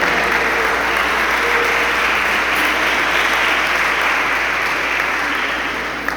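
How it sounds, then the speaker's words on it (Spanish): A church congregation applauds with loud, sustained, even clapping that fills the room for several seconds without letting up. "Demos una fuerte ofrenda de palmas a nuestro Padre."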